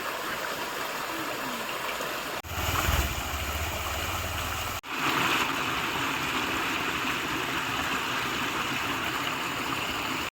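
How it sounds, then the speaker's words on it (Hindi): A waterfall and mountain stream in a hilly village area rush with a steady, dense broadband roar that continues throughout, briefly shifting in loudness as if the listening position changes. "वाह चलो एक झरना भी दिख गया।"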